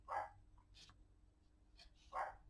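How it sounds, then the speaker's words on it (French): A dog barks in short, faint bursts indoors, two sharper yaps at the start and end with softer yips between them, all at a distance. "Mon chien, il continue son cinéma."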